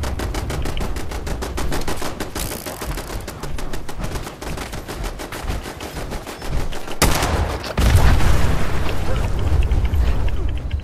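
Fallout 76 combat with rapid gunfire crackling throughout, then a loud, broad blast about seven seconds in as a Fat Man mini-nuke launcher shot explodes, its rumble sustaining to the end.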